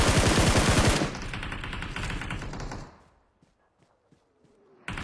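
Sustained rapid automatic fire from an M4 rifle in a video game rattles loudly for about three seconds, then cuts out to near silence before a final loud burst.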